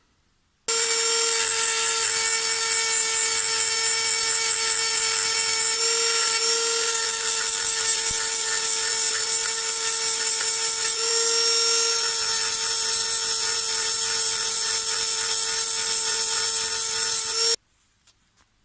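A Dremel small rotary grinder sharpens hedge trimmer blades with a steady high-pitched whine and grinding rasp, loud and close, running unbroken for roughly seventeen seconds before cutting off.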